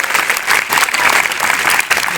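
Audience applause at a school event welcoming an academy principal, a loud, vigorous burst of many hands clapping continuously with no pause.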